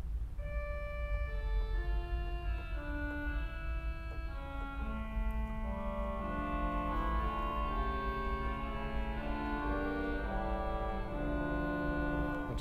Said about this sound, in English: And an orchestral oboe